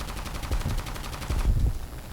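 Aircraft machine guns fire at an enemy plane in a Ki-61 fighter match, as rapid, evenly spaced bursts of gunfire rattle over a continuous engine drone and swell louder toward the middle.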